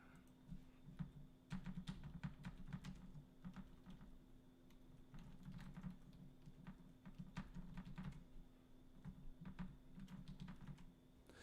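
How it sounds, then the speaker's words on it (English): Quiet computer keyboard typing during a live stream, bursts of rapid clicking keystrokes with short pauses, faint and close against a steady low hum. "Sorry if you can hear my keyboard."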